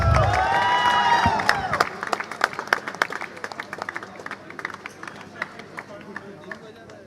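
A crowd gives sustained applause for the winning team at a university men's basketball tournament trophy presentation, a loud wash with a voice over it at the start, then thinning into scattered individual claps.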